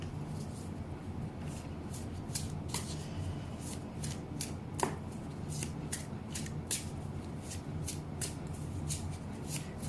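Tarot cards being shuffled by hand, a quiet run of soft riffling flicks and brushing taps repeating irregularly over a low steady background hum, with no talk.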